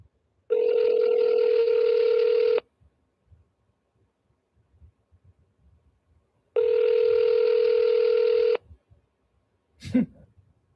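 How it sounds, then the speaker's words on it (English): Two long, loud steady voicemail prompt tones, each about two seconds with a strong pure pitch and buzzy harmonics, separated by a quiet gap, followed by a brief click at the end. "At the tone, please record your message."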